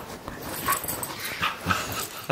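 A Labradoodle puppy playing on a bed lets out several soft, close whimpers and short high yips in quick, irregular bursts.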